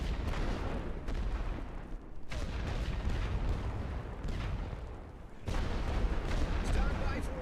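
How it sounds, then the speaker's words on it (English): Artillery barrage in The Great War: Western Front, a World War I video game: dense, continuous rumbling booms and blasts rolling on without pause, with a brief dip in intensity before the firing swells loud again. "Start the barrage"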